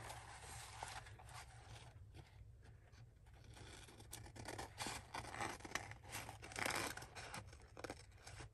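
Scissors snip and slice through junk mail paper while making an ephemera holder, a quiet close series of crisp cutting and crinkling sounds with irregular rhythm and light paper rustle between cuts, no voices.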